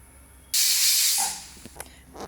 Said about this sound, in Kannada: ಮುಚ್ಚಳ ಮುಚ್ಚಿ 2 ವಿಷಲ್ ಬರಲಿ ಫ್ರೆಂಡ್ಸ್